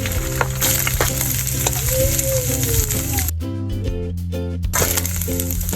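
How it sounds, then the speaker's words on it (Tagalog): Scrambled eggs frying in a pan, a loud continuous sizzle with light scraping and stirring clatter, a brief break in the hiss midway before the frying noise returns. "Fast forward naman ay sinimulan ko na rin prituhin itong itlog."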